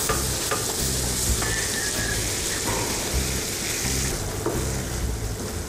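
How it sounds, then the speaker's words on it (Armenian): Flour toasting in a hot pan, sizzling and crackling steadily while a spoon scrapes and stirs through it in repeated strokes, close up with no talking. "Ալյուրը տապակում ենք այնքան, մինչև"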